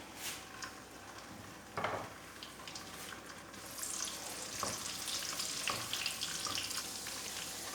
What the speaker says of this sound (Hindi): अब हम ड्राई फ्रूट जो लेंगे हम उनको फ्राई कर लेते हैं।